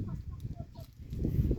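Free-range chickens cluck softly and intermittently in a rural yard over a steady low background rumble.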